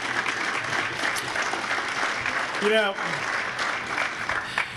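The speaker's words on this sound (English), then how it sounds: "let's give them a round of applause for their service" Audience applause at a county legislative update in Fairfield County, a steady wash of clapping while a voice briefly speaks over it.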